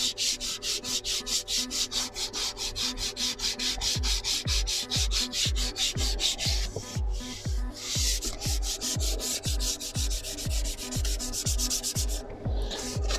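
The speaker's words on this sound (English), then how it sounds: "This feels really bad, sanding my steering wheel." Rhythmic hand sanding of a Range Rover L322 steering wheel, steady back-and-forth strokes close up, a low thump accompanying each pass.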